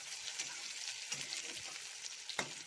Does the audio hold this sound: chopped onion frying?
yes